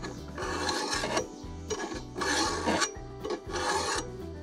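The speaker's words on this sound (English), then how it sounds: "So there are little shavings coming off to sharpen it" A hand file rasps along the edge of a grass-cutting blade to sharpen it, close and loud, in repeated back-and-forth strokes of about half a second each, with no talk.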